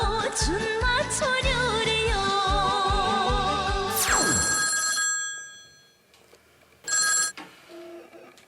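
A telephone bell rings loudly in rapid repeated bursts for about four seconds, then cuts off, followed by a brief electronic tone and a short beep in a quiet room.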